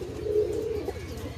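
Pigeons coo at a pigeon farm in Pabna district, a close, clear, continuous throaty call heard on its own.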